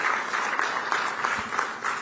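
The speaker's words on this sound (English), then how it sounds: "Thanks for clapping." Scattered clapping from a crowd, a soft continuous patter of hands heard at a slight distance.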